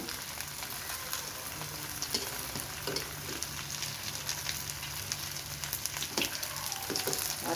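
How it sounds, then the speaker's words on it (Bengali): Eggplant and potato chips fry in mustard oil, giving a steady crackling sizzle with occasional stirring clinks, close and fairly quiet, with no talk. "সরিষার তেল দিয়ে ভাজি"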